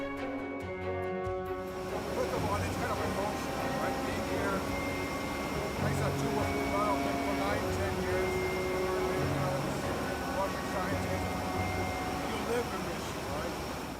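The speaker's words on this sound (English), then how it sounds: "If it sounds like there's a lot of noise in the background, that's because Torsten is being interviewed from a plane" Constant engine drone and rushing air of an airplane cabin fills the background while a person speaks over it during an interview.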